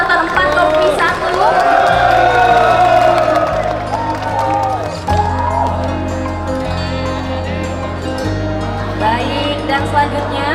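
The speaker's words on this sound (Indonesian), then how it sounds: "Boleh tepuk tangan sekali lagi dong" An audience at a students' award ceremony in a hall keeps up scattered cheering and whoops beneath a voice speaking into a microphone, with a steady low musical drone underneath.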